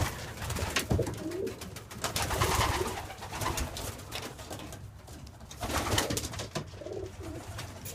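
Racing pigeons, breeding males in a small loft, coo softly and continuously nearby, overlapping throaty calls rising and falling in a steady murmur.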